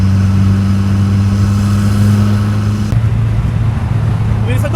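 A 1.8-litre turbocharged car with a big turbo pulling hard in third gear while its clutch slips, a loud steady droning engine note close to the microphone that shifts character partway through, with no speech.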